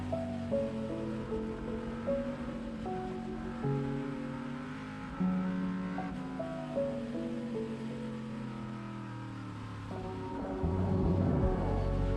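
A car nicknamed Big Red driving the Road America race circuit, its engine a steady, sustained drone whose pitch shifts up and down as it slows, changes gears and picks up speed again, heard from inside the car with wind noise and no talking.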